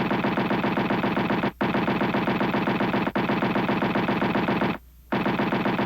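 A 20mm aircraft cannon fires in long sustained bursts, extremely loud and rapid, broken by a couple of brief pauses.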